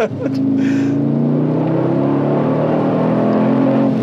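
A gold Mercedes G63 AMG accelerates hard, its engine note a loud, steady, rising drone heard from inside the cabin, with a brief sharp sound at the start and no talking.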